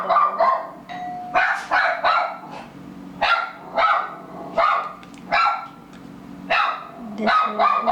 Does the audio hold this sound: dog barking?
yes